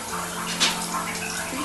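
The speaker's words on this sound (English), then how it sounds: "It pumps my water without electricity." Water flows and gushes steadily through a pump that runs without electricity and uses the water's own flow to push water uphill, a continuous rushing wash with a low steady hum beneath it.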